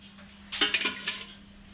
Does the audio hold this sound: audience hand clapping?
no